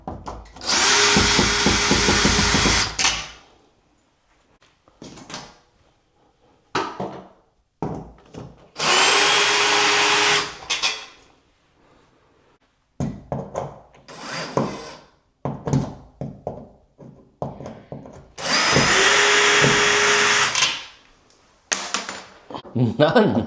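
A power drill backs Phillips screws out of a shower door frame in three long whirring bursts separated by pauses filled with clicks and handling noise.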